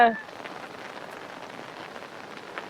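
Steady rain falls on surfaces outdoors in Rishikesh as a soft, even hiss. A short burst of voice comes at the very start.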